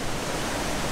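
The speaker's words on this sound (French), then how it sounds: "Là pour le coup c'est une vraie cascade." A real waterfall by the Laos border crossing, a dense, steady broadband rush of falling water filling the short moment, loud and close with no voices.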